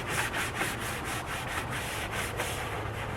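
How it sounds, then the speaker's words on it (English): A fender brush scrubs a car's engine compartment coated with foamed all-purpose cleaner, a steady close bristle rubbing with fast rhythmic back-and-forth strokes, continuous and fairly loud, with no voices. "I'm going to go ahead and get to scrubbing that"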